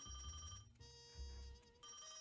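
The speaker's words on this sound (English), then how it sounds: "The phone rang." A telephone rings in the detective video game Crime or Punishment, a faint electronic ring tone repeating in a few bursts over a low hum with no talk.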